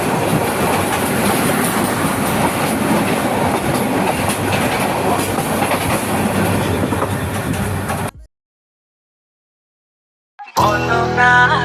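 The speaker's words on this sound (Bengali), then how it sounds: "এখন আপনারা দেখবেন দুটো ট্রেনের ক্রসিং" Two trains crossing each other on a line out of Dhaka, a loud, steady rumble and rhythmic clickety-clack close by that stops abruptly, followed by a short silence and then a burst of music.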